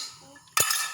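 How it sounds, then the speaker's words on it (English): Cooked noodles tipped into an omelette in a pan give a sudden close clatter of utensil against cookware, then a sustained bright sizzle after a brief quiet lead-in. "noodles, which is already cooked. Let's add it to the omelette."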